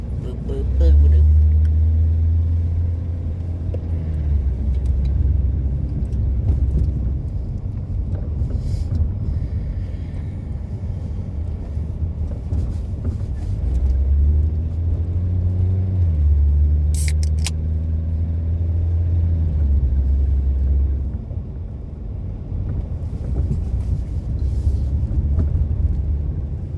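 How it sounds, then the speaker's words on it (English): A car on a morning commute to work hums with a low engine rumble that swells and fades in long waves, under a soft wind wash and occasional faint clicks. "another morning drive to work"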